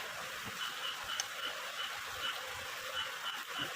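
Steady chorus of frogs croaking in the background, a continuous high-pitched trilling with faint low thumps, no voices.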